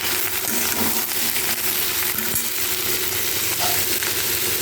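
Crushed garlic and chopped onion fry in a hot pan for a fish curry, giving a steady, dense sizzle close by that runs unbroken with small scrapes and clinks and no talk.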